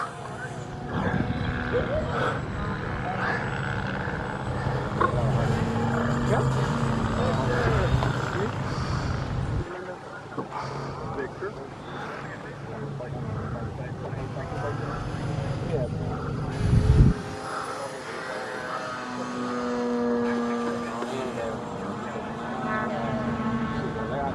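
An E-flite Habu electric RC jet flies at the Joe Nall 2025 fly-in, its steady ducted-fan whine sustained throughout and briefly dipping midway, with voices talking over it.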